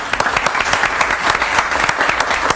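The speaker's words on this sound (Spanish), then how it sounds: "¿Por qué no aplaudimos?" An audience bursts into loud, continuous applause with sharp individual claps standing out in the dense crowd sound, holding steady throughout with no talking over it.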